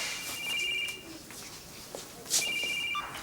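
A telephone ringing indoors, a high electronic trill in two bursts separated by a short pause, moderately loud and close with no talk over it.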